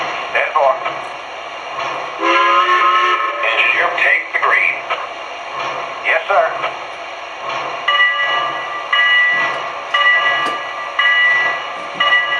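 A model train, powered from a ZW880 transformer, rumbles along its track with mechanical clatter and tonal horn-like bursts, while a person talks over it throughout.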